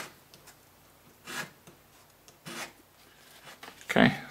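The bottom of a hardwood hex-wrench handle is rounded over by hand, giving a few short, faint rasping rubs and then a louder scraping burst near the end.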